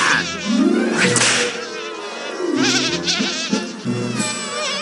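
A swarm of bees in an animated children's show buzzes loudly and continuously, with warbling tones rising and falling throughout and no speech over it.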